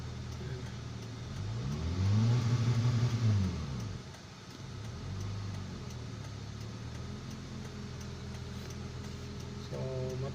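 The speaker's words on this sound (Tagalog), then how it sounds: "Pakinggan nyo lang guys yung makina dahil yung RPM nya sira yan" A car engine that runs rough and misfires, with a faulty RPM gauge, idles steadily nearby, then swells in a rev for about two seconds and settles back to a low, uneven rumble.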